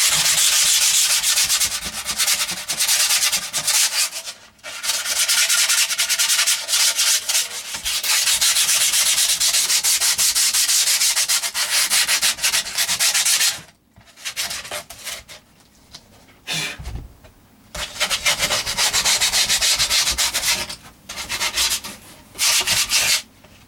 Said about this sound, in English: And then sand down again.